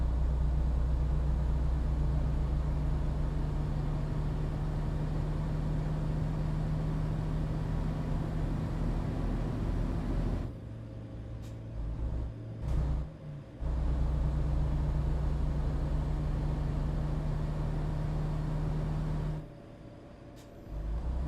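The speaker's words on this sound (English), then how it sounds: "Oh wait, we're driving a truck, not a starship." A truck on the road gives off a steady low engine rumble and road drone from inside the cab, with a few brief dropouts and bumps along the way and no talking.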